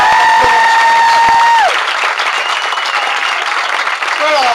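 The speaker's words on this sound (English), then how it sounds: "Give them a massive round of applause," Wedding guests in a field clap loudly in a dense burst of applause, following a voice at the start and continuing to the end with light cheering mixed in.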